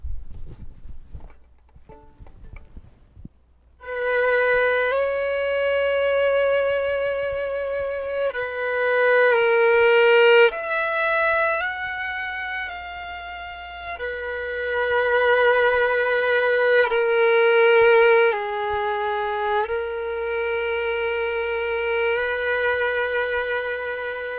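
A solo bowed string instrument plays a slow passage from Messiaen's Quartet for the End of Time in long, sustained singing notes, each shaped smoothly by the bow, heard alone and close.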